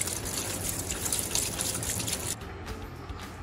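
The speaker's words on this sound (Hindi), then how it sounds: "हम इसको पानी मार के ठंडा करेंगे अच्छी तरह।" Tap water gushes steadily over boiled french fries to cool them, a dense, close splashing stream that shifts to a softer, thinner pour near the end.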